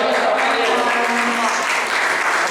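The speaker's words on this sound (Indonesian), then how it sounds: "Masih tepuk tangan." An audience at a school anti-drug awareness session claps continuously in a dense, close burst of applause with some voices mixed in.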